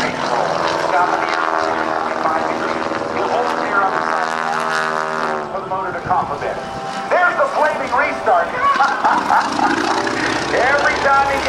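Aerobatic propeller airplane flying an 8-point hesitation roll at the 2008 NAS Oceana airshow: a loud, sustained engine drone with strong harmonics that briefly dips and falters midway, then surges back in uneven bursts.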